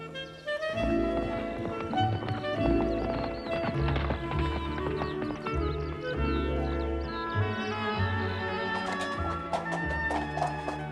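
Horse hooves clip-clop in a steady rhythm over a low rumble and scattered clatter, moderately close, with no talking.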